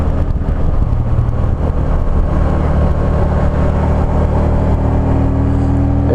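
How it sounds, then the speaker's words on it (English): Engine of a wife's new motorcycle heard while riding, a loud, steady, close drone mixed with constant wind rush and no pauses. "Well, listen to that motor."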